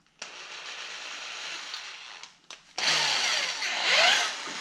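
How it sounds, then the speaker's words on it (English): A drill with a long bit bores into a 4.5-inch musky lure body, whining in two close, steady bursts separated by a brief pause, the second louder and rougher. "Let me grab a bigger drill bit."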